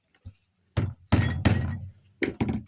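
Metal tapping sounds as a drywall screw is struck to centre punch a rivet for removal: several sharp, close knocks in irregular pairs with short ringing tails, with quiet gaps between.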